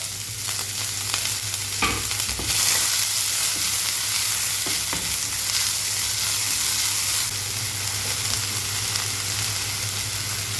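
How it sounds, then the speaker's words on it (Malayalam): Chopped ginger, green chillies and onion fry loudly in a pan, a dense continuous sizzle with a few brief spattering bursts near the start and a steady low hum beneath, no voices. "ഇനി നമ്മൾ വേണ്ട അരിഞ്ഞു വെച്ചിട്ടുള്ള ഇഞ്ചിയും പച്ചമുളകും പിന്നെ നമ്മളുടെ സവാളയും ചേർത്ത് കൊടുക്കുക"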